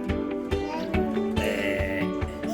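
An adult voice imitates a sheep's bleat for a small child while teaching farm animal sounds; a short, close, tonal vocal "baa" with harmonics, said at home among other animal-noise prompts.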